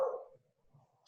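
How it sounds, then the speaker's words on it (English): A dog barks at home, one short bark up close followed by quieter whining and a faint second yip, with no talking. "you can hear my dog barking."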